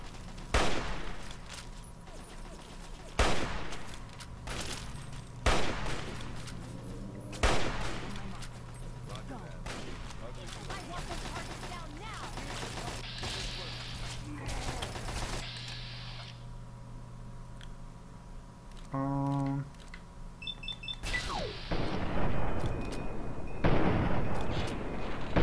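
Weapons fire in the video game Fallout 3 during VATS combat, with sharp gunshot bursts and booming blasts scattered across a busy game soundscape, including a brief electronic beeping sequence and a heavy barrage near the end.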